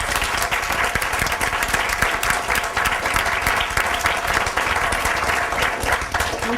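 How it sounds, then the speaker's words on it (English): A seminar audience applauds its panel speakers on immigrant workers' experiences, a full, steady round of many hands clapping close and loud throughout, without talk. "I'd like to give our speakers a round of applause."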